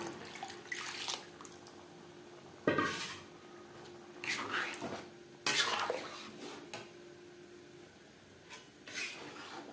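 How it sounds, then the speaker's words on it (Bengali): Rice and lentils being mixed in a pot for vegetarian broccoli khichuri, with several sharp scraping clinks of a spoon against the metal and wet stirring sounds in between, close up and with no speech. "ডালের সাথে চাল বেশ ভালো করে মিক্সড করে দেবো"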